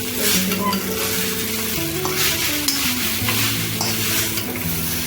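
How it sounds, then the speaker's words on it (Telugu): Dry Maggi noodles are stirred in a pan over a high flame: steady loud sizzling and frying crackle throughout, with faint utensil scrapes, close up and continuous, no voices. "హై ఫ్లేమ్లో పెట్టి తిప్పుకుంటూ ఉండాలి"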